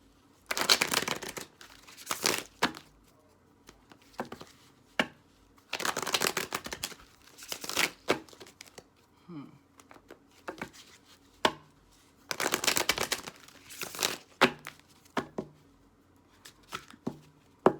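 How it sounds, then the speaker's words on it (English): A deck of tarot cards is shuffled repeatedly up close, with bursts of riffling and crisp slaps separated by brief pauses, the rhythm irregular and fairly quiet. "let me shuffle this deck"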